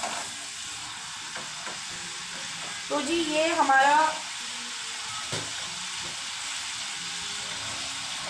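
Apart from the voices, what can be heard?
chilies frying in a pan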